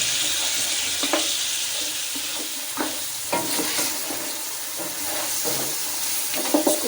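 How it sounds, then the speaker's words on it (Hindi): Mutton frying bhuna-style in a karahi, a steady hiss of sizzling oil with scattered stirring scrapes and clinks of the spoon against the pan, close and continuous without talk. "तो अच्छा सा भूनेंगे जब तक कि मटन का कलर चेंज नहीं हो जाता।"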